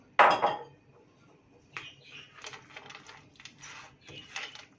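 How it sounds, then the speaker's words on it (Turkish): Walnuts stirred into hot cheese noodles clatter with a sharp utensil knock against the pan, then a stretch of soft scraping and clinking as the mixing continues close by. "Biraz ceviz de şöyle sıcağıyla karıştıracağım."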